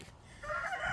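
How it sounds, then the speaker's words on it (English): A rooster starts crowing loudly partway through, its strained call rising after a short quiet moment. "We have too many roosters."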